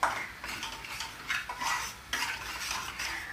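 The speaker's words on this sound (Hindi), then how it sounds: "आटा मेरी प्यार भरी बातें सुनते सुनते भुन रहा है" Whole wheat flour roasting in a pan for atta halwa while a spoon stirs and scrapes it, producing soft, uneven scraping swishes over a faint sizzle, close and without talk.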